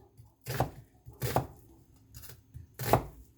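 A knife slices through whole vegetables on a cutting board in three distinct, unhurried cuts, each a crisp thunk close to the ear with quiet pauses between.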